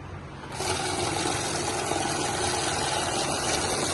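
Cash counting machine running banknotes through with a steady, loud whirring rush that starts abruptly and continues without a break.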